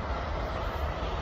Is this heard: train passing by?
yes